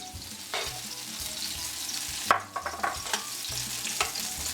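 Onions and mushrooms sizzle steadily in a pan, a broad crackling hiss with a few sharp clatters and scrapes of stirring midway, no voices.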